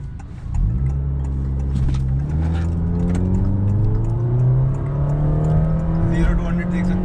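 A stock Gen 5 Honda City RS launching hard from a standstill, the engine revving up in a steady rising drone that climbs in pitch, loud and close inside the cabin, with people talking over it.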